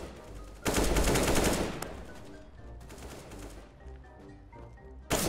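Rapid automatic gunfire in CS:GO, a loud burst of shots followed by quieter, more distant exchanges of fire and a final sharp burst at the end.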